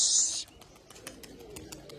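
Pigeons coo in soft, low murmurs under faint tapping and movement, after an opening burst of brighter high-pitched noise; a voice may be faintly present.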